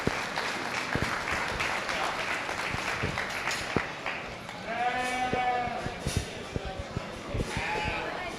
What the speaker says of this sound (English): Let's give them a real nice round of applause.